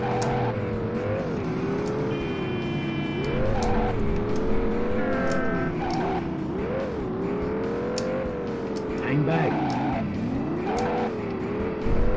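Car tires squealing in the video game Driver 2, a wavering engine drone with repeated screeches as the car slides through turns, steady and loud throughout.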